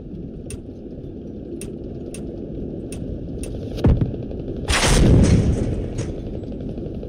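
A rocket whooshes overhead in the military shooter Squad, a brief rushing burst rising over steady battlefield ambience with faint rhythmic ticking in the background and no talking.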